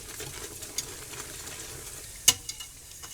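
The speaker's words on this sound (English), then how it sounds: "So you just whisk this in, turn it down to a simmer" A whisk stirs potato soup mix into a pot of liquid, making soft scraping and swishing sounds over a faint bubbling background. Occasional sharper clinks ring out where the whisk strikes the metal pot.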